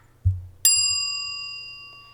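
A single bright bell ding rings out after a soft low thump, its clear metallic tone sustaining and slowly fading over about a second and a half in an otherwise quiet room.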